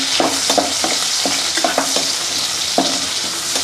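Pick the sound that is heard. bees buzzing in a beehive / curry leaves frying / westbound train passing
curry leaves frying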